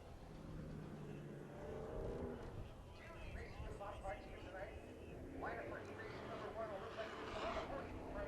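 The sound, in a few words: IMCA Modified race cars coming out on track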